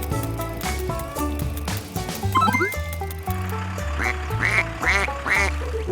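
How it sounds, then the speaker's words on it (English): A cartoon duck quacks several times in quick rhythmic bursts over bright, bouncy children's music with splashy watery effects, loud and upfront. "Who is swimming and quacking? Right, it's a duck. It says quack, quack."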